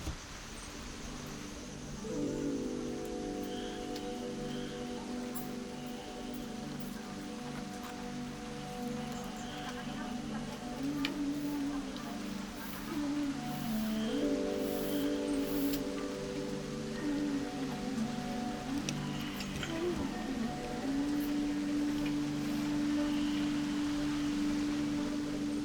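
Steady rain falls softly outside while weaving goes on at a loom in the Cordillera, a faint, even hiss with a sustained hum and a few soft knocks underneath.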